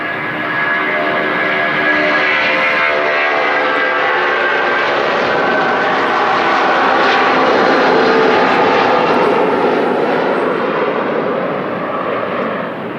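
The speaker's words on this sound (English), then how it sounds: "Airplane." A fixed-wing airplane's engine roars steadily and loudly throughout, a continuous broadband drone that swells slightly in the middle, with no voices.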